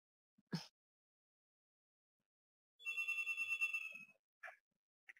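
A telephone rings once in a burst of about a second, faint and slightly distant, with a few soft clicks around it and no talk.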